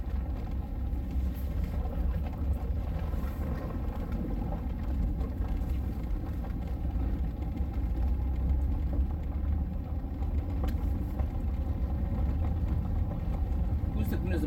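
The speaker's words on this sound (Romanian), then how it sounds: "Accelerează că moare motorul." A car engine runs steadily during a driving lesson, a continuous low idling hum throughout while an instructor and learner talk over it.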